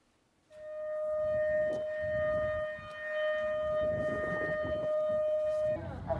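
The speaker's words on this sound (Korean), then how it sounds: "사이렌 소리가 울릉도를 가득 메웠습니다." An air raid siren sounds over Ulleungdo island, a steady sustained wail held for several seconds, heard from a distance with muffled background noise beneath.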